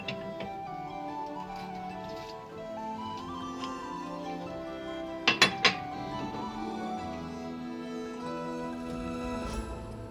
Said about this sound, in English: let's use this and lift the lids and have a look and see what's going on